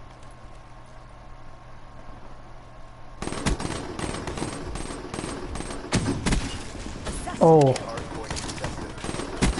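Rapid automatic fire from a P06 gun in an online shooter game, loud bursts of repeated shots crackling over game noise, with a brief spoken exclamation.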